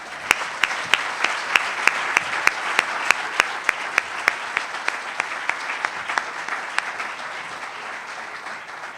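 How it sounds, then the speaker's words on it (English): Sustained round of applause from an audience at a food organization's national leadership conference, dense clapping with a few sharper, louder claps standing out at a steady pace throughout, no voices over it. "give a round of applause to those new chapters who have joined us in the last year"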